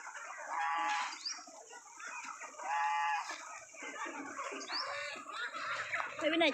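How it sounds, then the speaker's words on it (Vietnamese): A flock of chickens clucks and calls in repeated bursts of overlapping fowl voices at moderate distance, with a busy farmyard background and no talk. "quay đàn gà cho cả nhà xem"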